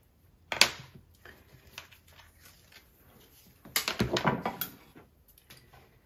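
Scissors cut through tea towel fabric while a bread bag is sewn: a short crisp snip near the start, then a longer run of crunchy cuts a few seconds later, close and moderately quiet.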